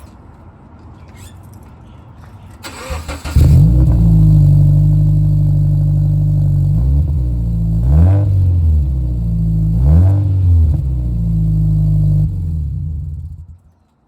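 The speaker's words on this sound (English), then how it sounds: "Also does have the NVIDIA exhaust, which I'll actually do a startup video right now." A Scion FR-S engine with an aftermarket exhaust cranks and starts, settling into a loud, deep exhaust idle with two sharp revs, then cuts off near the end.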